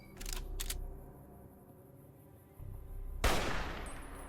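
Gunfire from a gun in the video game Fallout New Vegas: two quick sharp cracks early, a quiet lull, then one louder close shot with a decaying tail.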